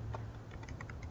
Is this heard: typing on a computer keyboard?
yes